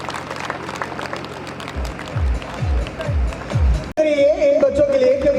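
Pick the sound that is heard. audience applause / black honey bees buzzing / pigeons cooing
audience applause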